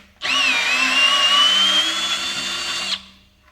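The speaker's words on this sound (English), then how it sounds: "if you're using a magnetic bit, you'll find that as you back the screw all the way out, you need to wiggle it to pull it out of the hole" A cordless power driver with a magnetic bit whirs steadily for about three seconds, backing a screw out, close and loud with a slight pitch rise at the start, no voices.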